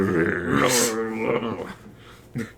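Cartoon dog growls from an animated series, a close, rough voiced growl that rises and wavers, then a short grunt after a pause, probably a voice actor imitating a dog.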